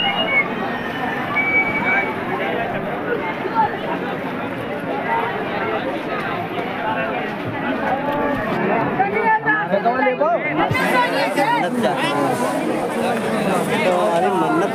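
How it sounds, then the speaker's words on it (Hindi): Dense crowd chatter fills a packed fair (mela) in Barabanki, Uttar Pradesh, with a steady babble of many voices close around and someone talking over it. "यहाँ पे जितनी आगे चल रहे हैं उतनी भीड़ बढ़ती जा रही है गाइस"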